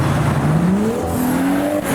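A Porsche GT3 engine revs and climbs in pitch, dips, then rises again, loud and continuous, like a race car accelerating nearby in traffic.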